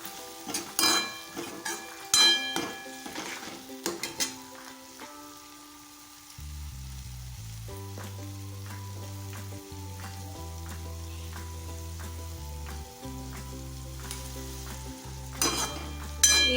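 Tomatoes cook in a pan for dhaba-style shev bhaji. A soft frying sound runs under a few utensil clinks and knocks, fairly quiet and close, with no voices.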